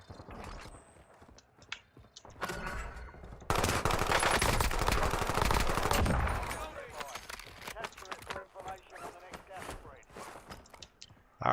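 AK rifle fire in the Warzone video game, with rapid automatic bursts that swell into a dense, loud volley in the middle, then scattered shots and clicks as the firing tapers off.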